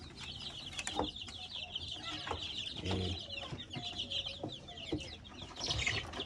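Farm chickens cluck steadily at close range, with repeated short calls and fluttering scattered across a busy barnyard backdrop.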